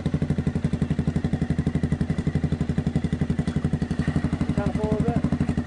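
A Suzuki King Quad 700 ATV engine chugs at a rapid, even idle, a loud close-up thumping pulse that keeps a steady rhythm, with a voice speaking briefly over it near the end.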